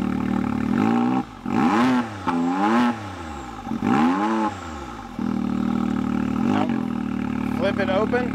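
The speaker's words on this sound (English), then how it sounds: "Rev it up." A car engine revs in several loud, rising and falling bursts with short pauses between them, close by, and a person speaks briefly near the end.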